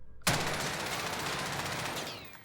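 Sustained automatic gunfire from a weapon in the Call of Duty Cold War/Warzone video game, a loud rapid burst starting abruptly and continuing steadily for about two seconds before tapering, with no talk.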